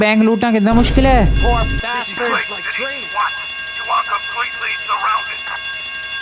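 A bank alarm rings with steady, sustained electronic tones throughout a robbery in the video game GTA Vice City, under a man's nearly continuous excited talking.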